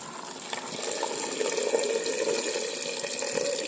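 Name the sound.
water poured into cooking pot for sinigang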